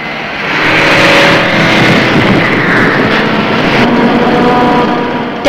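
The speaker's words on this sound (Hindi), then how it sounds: "गाड़ी बहुत तेज चला रही हो।" A car is driven very fast in an old Hindi film, with a loud, sustained engine roar that swells and holds for several seconds, close and dominant, with no speech over it.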